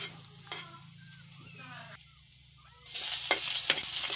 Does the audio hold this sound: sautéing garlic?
yes